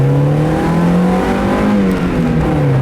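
A 1997 Mazda MX-5 Miata accelerating, its engine note climbing steadily through the revs in a continuous, fairly loud drone heard from inside the car, with no talking.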